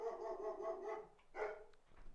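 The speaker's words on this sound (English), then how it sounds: "So that was the dog." A dog barks indoors, a short run of muffled, soft barks followed by a brief louder yelp, heard faintly as if from another room.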